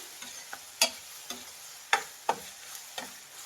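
A spoon stirs tomato and onion frying in a pan for mutton fry, giving a series of sharp, close clicks and scrapes over a soft, steady sizzle.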